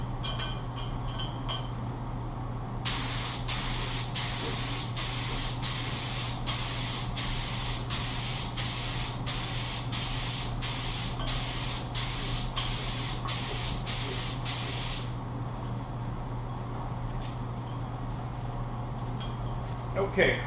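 Silver chromium paint is sprayed from a can in a long series of short even bursts, each a loud hiss with brief gaps, steady hum underneath, quiet before and after.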